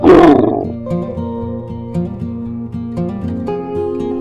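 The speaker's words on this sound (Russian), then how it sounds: "Медведь." A bear lets out a single loud, rough roar at the start, after which only soft children's background music plays on.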